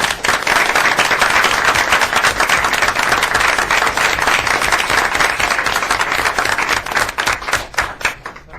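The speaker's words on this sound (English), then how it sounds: "If we can give them all a round of applause." An audience at a school board meeting applauds award winners, steady loud clapping filling the whole stretch and thinning slightly at the end, with no talk over it.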